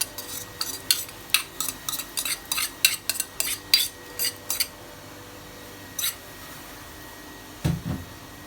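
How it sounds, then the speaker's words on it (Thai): A utensil scrapes and clacks against a pan in a quick rhythmic run of strokes while sweet corn is stirred in melted butter, then a few isolated knocks follow after a pause. "ก็ผัดนิดนึง ให้ข้าวโพดมันคลุกกับเนยหน่อยนะคะ"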